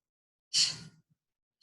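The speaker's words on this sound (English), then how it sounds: "I know you can hear me breathing." A barre instructor lets out one sharp, forceful exhale during the exercise, loud and close, with the start of another breath cutting in just at the end.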